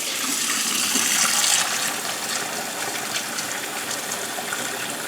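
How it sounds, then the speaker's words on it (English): Running water draining and rinsing green beans in a kitchen sink while making homemade dog food, a steady, close rushing gush that swells briefly early on, then continues evenly without talk. "we're going to drain out our green beans and give them a good rinse"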